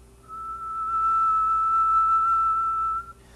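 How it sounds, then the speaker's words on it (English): One sustained human whistle, a nearly pure steady tone held for about three seconds at close range, with a faint hum underneath. "A whistle is almost a sinusoid, but as you'll see, isn't terribly sinusoidal."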